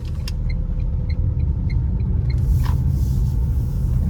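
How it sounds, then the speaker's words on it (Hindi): A Tata Tiago fitted with CNG drives slowly through a U-turn in second gear at about 10 km/h, giving a steady low engine and road rumble heard close up from inside the cabin, with a few faint ticks and no talk. "अभी 10 की स्पीड और सेकंड गियर, यू टर्न लेके देखते हैं।"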